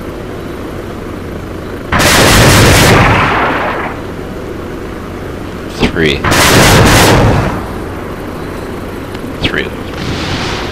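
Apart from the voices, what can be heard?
bombing run explosions in video game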